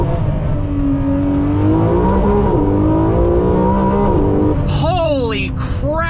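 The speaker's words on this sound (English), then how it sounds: "one of the best sounding Ferraris ever. That V12 is just so raw and angry." A Ferrari 599 GTO's V12 revs hard while driving, loud and continuous with rising and falling pitch as it accelerates, and a sharp climbing rev surge near the end; someone talks over the engine throughout.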